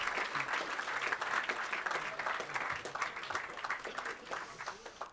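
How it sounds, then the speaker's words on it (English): Audience clapping at a satellite launch event, a continuous wash of many hands at moderate distance, steady and even throughout. "applause."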